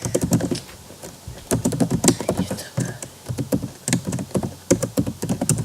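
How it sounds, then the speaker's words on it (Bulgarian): Rapid clicks of a computer mouse mixed with keyboard tapping during Minecraft PvP play, sounding as close, irregular bursts that are steady throughout. "ще чуете мишката най-вероятно"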